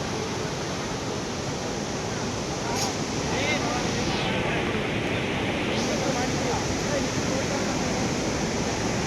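Bharachukki Falls in Chamarajanagar district, India: a steady, full roar of rushing water, continuous and unbroken throughout, loud as if heard from fairly close by.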